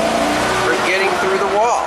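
A 2008 Suzuki SX4 with fuel injector number 4 disconnected revs under part throttle, its engine droning and rising in pitch, close and loud, while someone talks over it.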